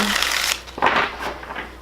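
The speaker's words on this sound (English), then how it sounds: "I'm just going to give this a couple shuffles" A deck of tarot cards is shuffled in two quick riffling bursts, crisp and close, with a short pause between them.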